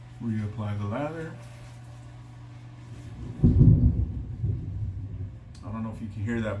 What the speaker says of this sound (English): it's raining outside and some thunder just hit right now.